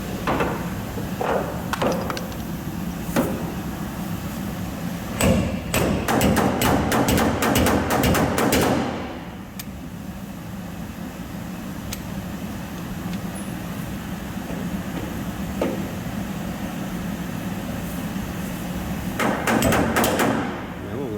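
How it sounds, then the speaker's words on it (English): A hammer strikes a car body panel during a tonner truck build, first in scattered knocks and then in a fast run of sharp metallic blows, against a steady background rumble. "Need to hit there while I pull it."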